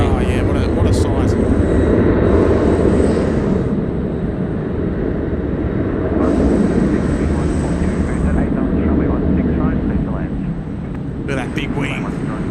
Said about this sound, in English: Let's enjoy the A380 coming in onto bay.